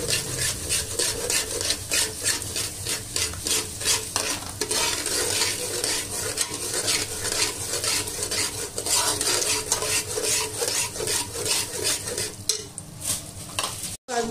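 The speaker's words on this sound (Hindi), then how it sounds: "ये घी है, 2 कप्स ऑफ घी है, इसमें सूजी डाल के अच्छे से भूनेंगे हम लोग।" Semolina roasting in ghee is stirred and scraped rhythmically with a utensil, making fast repeated rasping strokes over a gentle sizzle, steady and close for the whole stretch with no talking.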